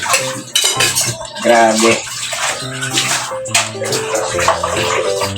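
Dishes being washed under running tap water: splashing and a steady stream, with plates and cutlery clattering and clinking close by, while someone speaks briefly over it.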